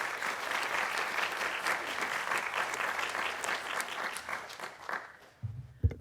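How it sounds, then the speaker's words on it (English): Audience at a talk on AI for smart tech and safe streets applauds steadily for about five seconds, then the clapping dies away and a few small thumps follow. "I'd like to have us all give a welcome round of applause for her."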